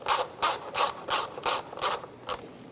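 A ratchet clicks in seven quick even bursts, close and clear, as it snugs down a valve cover bolt on a 2007-2013 Mini Cooper engine.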